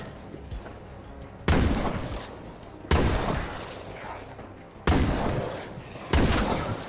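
Gunfire in the zombie survival game State of Decay 2: four loud, sharp shots spaced a second or two apart, each ringing out with a decaying tail over a quiet background.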